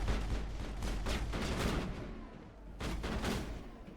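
Gunfire in the Mass Effect video game on Xbox 360, a rapid stream of crackling shots and bursts at moderate level, continuing with a short lull midway.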